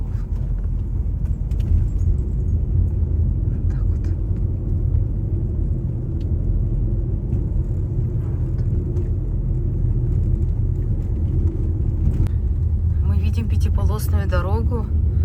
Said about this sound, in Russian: Очень много машин, оказывается.